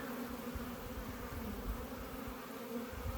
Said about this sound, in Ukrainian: Літають гарно, бачимо пчолки сіренькі.